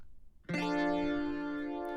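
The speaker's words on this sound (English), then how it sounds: "two electric guitar tracks, and I panned one left and one right, and they both have heavy chorus" Electric guitar chord rings out after a moment of quiet, shimmering with wide chorus and a long reverb tail that sustains to the end.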